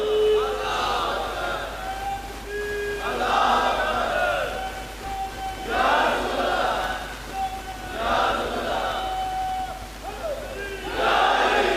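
A large crowd at a religious gathering answers in unison with loud, repeated chanted slogans, each roaring call rising and falling in a steady rhythm.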